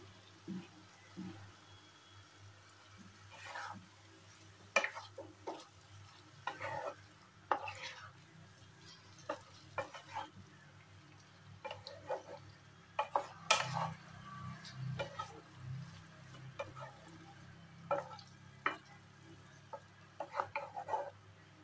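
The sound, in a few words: poppy seed paste cooking with pointed gourd in a pan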